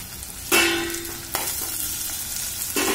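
Onion fries in a pan for poha as capsicum goes in, a steady close sizzle with sharp scraping stirs, a louder burst near the start and another toward the end.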